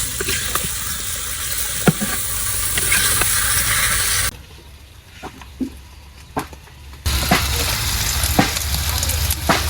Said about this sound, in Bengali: রসুন মরিচ সব বাদামি কালার করে টাইলে নিছি।